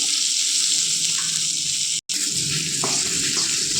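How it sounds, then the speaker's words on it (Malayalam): Dried red chillies, onion, curry leaves, salt and tamarind frying in a pan for onion chutney, a loud continuous sizzling hiss with a brief dropout midway. "ഉണക്കമുളകും ഉള്ളിയും കറിവേപ്പില പിന്നെ ഉപ്പ് നമ്മുടെ വാളംപുളി ഇതെല്ലാം ഇട്ട് ഒന്നുകൂടെ ഒന്ന് മൂപ്പിച്ചെടുക്കാം"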